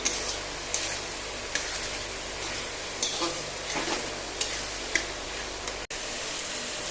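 Fried fish and potatoes stirred in a pan, a continuous steady sizzle with soft scraping taps of a spatula recurring throughout.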